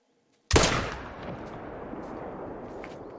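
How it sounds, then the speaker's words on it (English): A single rifle shot fired at a fox in the hunting game theHunter: Call of the Wild, a sharp loud crack after silence followed by a long rolling echo that fades slowly across the open Mississippi Acres landscape. "Gonna have to shoot quick."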